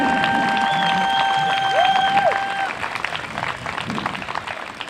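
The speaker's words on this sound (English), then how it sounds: "Give them a round of applause" A crowd at a cross-border rally applauds with a dense, steady wash of clapping and light cheering, distant and even, while a long whistle-like tone rises and falls above it.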